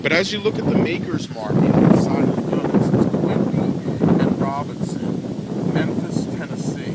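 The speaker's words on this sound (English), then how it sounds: "you have to pardon the wind, it's a very windy day" Gusty wind buffets the microphone in low rumbling blasts while someone talks steadily over it outdoors beside a Civil War howitzer cannon.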